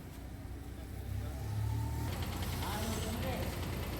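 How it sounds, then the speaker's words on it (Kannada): A KSRTC bus engine rumbles at the Mundgod bus stand in Karnataka, a low steady drone that swells as the vehicle pulls in, with speech over it. "ಯಲ್ಲಾಪುರದಿಂದ ಬಂತು ನೋಡ್ರಿ ಗಾಡಿ"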